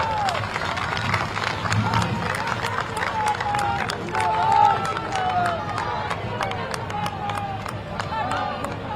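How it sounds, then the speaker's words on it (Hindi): A crowd claps and cheers at a road show in Rudrapur, with steady applause and scattered sharp claps over a busy babble of voices, plus a few whistle-like tones. "एक बार सब लोग आप बहनों के लिए ताली बजा दीजिए।"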